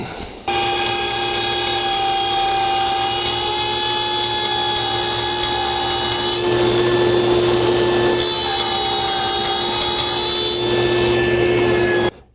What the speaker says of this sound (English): Now all we got to do is start everything up and slowly raise the dado blade to cut that.